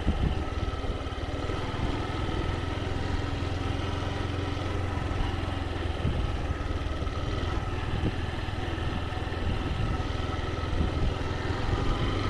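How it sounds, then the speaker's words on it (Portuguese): A motorcycle rides through sandy farm dirt on ploughed land prepared for planting, its engine droning steadily and fairly loud throughout with rough, uneven texture. "Ali tem bastante areião para passar com a moto"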